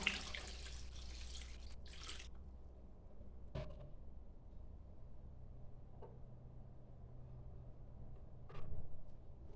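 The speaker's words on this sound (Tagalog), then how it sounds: "Lagyan natin siya ng tubig." Water pours into a soup pot for about two seconds, then quiet with a few faint drips and clinks. Soft and close.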